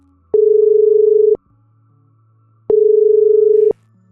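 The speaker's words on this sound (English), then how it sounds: "I'm calling you on the phone." A telephone ringback tone sounds twice, each a steady, loud, clean hum lasting about a second, separated by a gap of silence, with no voices.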